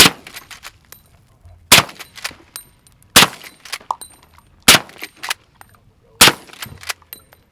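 Suppressed .45-70 lever-action rifle shots fired with zinc bullets: five sharp reports at roughly even intervals, with softer clicks and clatter of the lever action between them, close and loud.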